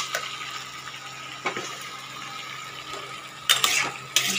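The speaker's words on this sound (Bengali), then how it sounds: "একটু ভালো করে টমেটোটা ভেজে নেব।" Tomatoes fry in oil with salt in a pan, giving a steady soft sizzle with a few louder scraping stirs of a utensil toward the end, close by with no talk.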